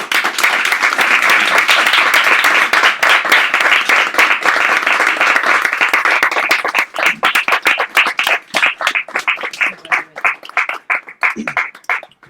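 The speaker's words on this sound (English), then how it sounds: "Let's give another round of applause for Monica, Bianca, and Craig for the wonder" An audience applauds after a poetry reading, starting as a loud, dense burst of clapping and thinning over the last several seconds into scattered individual claps that fade out.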